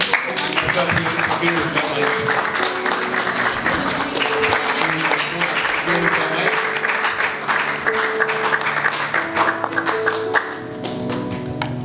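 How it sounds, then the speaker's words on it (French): Loud church congregation applause and cheering, with a rapid rhythmic patter of clapping over a band of voices and music-like tones, easing slightly near the end. "Sous vos acclamations."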